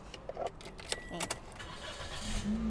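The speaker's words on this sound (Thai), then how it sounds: "สตาร์ทติดได้โดยง่ายเลยค่ะ" Keys jangle, then a Toyota Yaris five-door car engine cranks and catches, settling into a low, quiet idle rumble.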